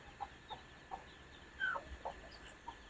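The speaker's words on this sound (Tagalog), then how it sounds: "Ang cute na mga sisiw." Newly hatched chicks peep in short, high, faint calls spaced about every half second, with one louder rising chirp near the middle, over a low background hiss and no talk.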